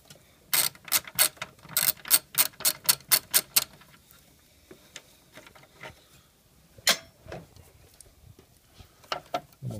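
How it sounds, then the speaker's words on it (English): Rapid ratchet clicks from a 10 mm socket loosening radiator shroud bolts on a Ford Explorer 4.0L, a fast burst of close, crisp clicking followed by sparser bolt turns and metallic taps. "now we got our 10 millimeter socket. We'll just take these loose for the shroud"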